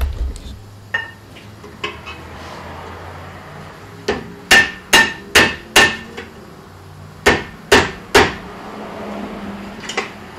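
A hammer strikes a car's stiff metal heat shield in a repair shop, a few scattered taps then a rapid run of sharp, ringing metallic blows in two bursts, close and loud with no voices.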